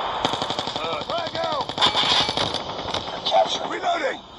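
Rapid automatic gunfire from Call of Duty multiplayer rattles in dense bursts, loud and close, mixed with game effects while players talk over it.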